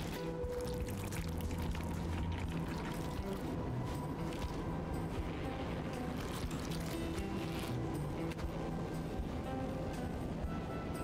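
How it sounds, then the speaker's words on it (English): A character's arm in the video game My Arms Are Longer Now makes continuous wet squelching and squishing sounds, loud and close, over a dense busy game soundscape. No voice is heard. "Why is the arm so wet sounding?"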